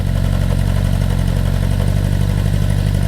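Honda CB750 motorcycle engine with a newly replaced stator, rotor and brushes, idling steadily and loud with a constant low throbbing rumble and mechanical clatter throughout, no voices.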